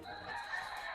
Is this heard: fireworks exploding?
no